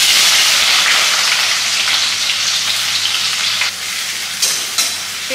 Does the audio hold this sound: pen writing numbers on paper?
no